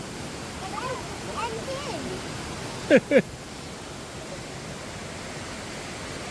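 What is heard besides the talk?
waterfall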